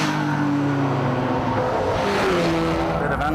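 A 660-horsepower racing car engine screams at full throttle on track, loud and close, its rising revving tones shifting through gear changes with a brief squeal of tyres and no talk.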